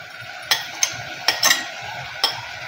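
A spatula stirs papdi bhaji with fresh grated coconut, red chili powder, coriander and crushed peanuts in a pan, giving several sharp clinks and scrapes at an uneven rhythm over a faint, steady sizzle.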